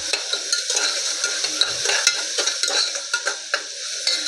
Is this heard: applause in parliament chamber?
no